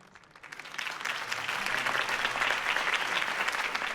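Crowd applause follows a campaign speech in the video game Batman: The Telltale Series, a dense, steady clapping that swells quickly from quiet and holds strong without talk.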